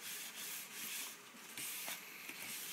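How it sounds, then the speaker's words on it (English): Close, steady rubbing strokes of wet 1000-grit sandpaper on a car tail light lens make a soft, rhythmic scratchy swish, repeating alone with no talking. "You're just going to put a little bit of water on your sandpaper."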